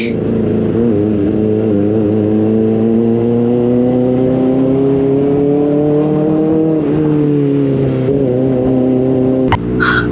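A 2025 Kawasaki ZX-4RR sport bike rides out toward the highway, its high-revving engine a loud, steady whine that rises and falls through gear changes, with a brief bump near the end and no talk.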